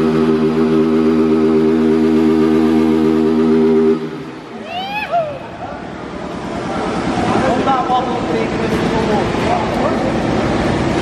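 A 160 cc motorcycle with a modified camshaft idles loud and close with a strong, steady tone, then falls away as it pulls off, and voices talk over the fading engine and background noise.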